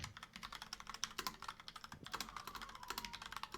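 Rapid clicking keystrokes on a computer keyboard, close and fairly faint, in uneven bursts with brief pauses and no talking.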